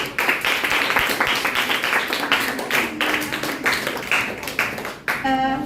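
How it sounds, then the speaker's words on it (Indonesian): Students in a classroom clap for a presenting group, producing a lively, slightly uneven patter of hand claps that runs for several seconds and ends with a brief tonal sound. "kita beri tepuk tangan buat kelompok"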